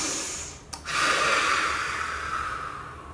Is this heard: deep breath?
yes